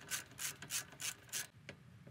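A ratchet wrench tightens the 12mm bolt that secures the rear brake line on a modern Subaru. It gives five quick, crisp clicking pulls, then a couple of fainter clicks as it stops, close by, with no talk.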